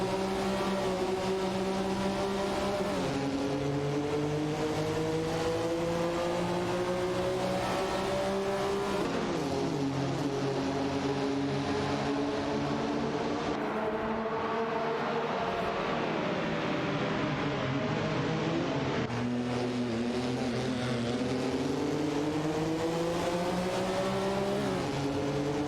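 Three race cars battle on a track in an AI racing event, their overlapping engine whines climbing and falling in pitch through gear changes, loud and continuous with no talking.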